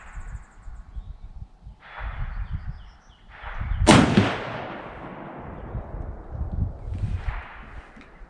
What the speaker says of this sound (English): Let's see how this bipod holds up with the boom from this 30-06.